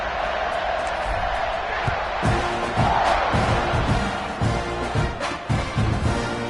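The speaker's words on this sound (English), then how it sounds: "this crowd now ready to get behind them" A stadium crowd at a football match just before kickoff, a continuous roar of many voices with scattered shouts and thumps, moderately loud and steady throughout.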